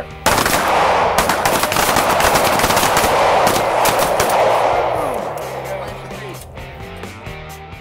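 Rapid gunfire rattles out in a continuous close volley at a close-retention shooting drill, loud and dense, then fades into scattered shots while voices shout in the background.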